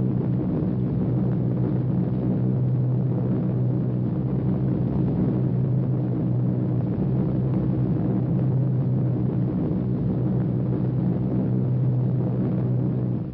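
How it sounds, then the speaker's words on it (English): Military aircraft engines in a World War II formation over the Aleutians, heading from Adak toward Kiska, a steady low droning roar that fills the whole stretch without pause and with no voices. "Thunder of engines makes the earth tremble and the ravens rise."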